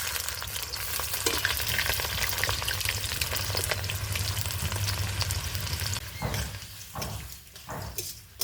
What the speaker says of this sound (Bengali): এখানে আমি পেঁয়াজ কুচনোটা দিয়ে দেবো।